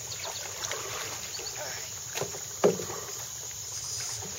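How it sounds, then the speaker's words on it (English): A canoe being paddled backward on water, with soft splashing paddle strokes and watery swishes over a steady wind rush, plus a sharper knock near the end, close to the microphone. "Paddle backwards, guys."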